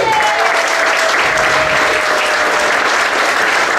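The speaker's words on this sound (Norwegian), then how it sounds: "En stor applaus for han." A concert audience gives a loud, sustained round of applause for a musician being introduced on stage, dense continuous clapping filling the room without a break.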